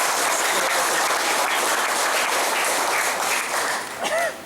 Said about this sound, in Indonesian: Tepuk tangan untuk Bung Bambang Eko Surono